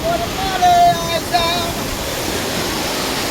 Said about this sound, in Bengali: জলের টান দেখুন এখানে, এই দেখুন জলে নেমেছি